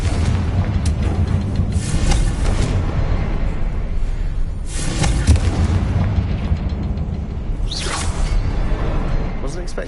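A Confringo spell explodes in Hogwarts Legacy with whooshing blasts and booming bursts over a dense game soundtrack, several loud surges spaced a few seconds apart.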